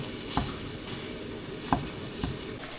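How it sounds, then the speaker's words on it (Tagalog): A burger patty sizzles and fries in a pan, a steady close crackle broken by a few sharp scraping or stirring clacks. "Tapos nalagay ko na yung burger patty na anit para maluto na siyang mabuti."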